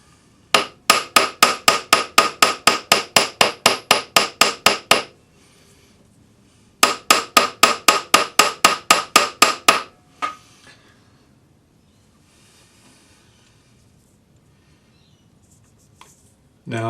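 A texturing hammer strikes metal sheet for a ring in two fast, evenly spaced bursts of about fifteen sharp, ringing blows each, close and loud, with a quiet pause between and silence afterward.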